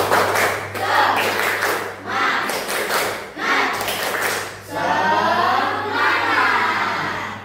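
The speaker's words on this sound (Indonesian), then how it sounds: "Tepuk semangat." A class of children at a madrasah claps in rhythmic bursts for a 'tepuk semangat' clap routine, chanting along between the clapped phrases, close and energetic.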